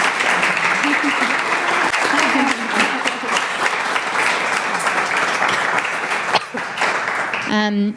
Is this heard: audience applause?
yes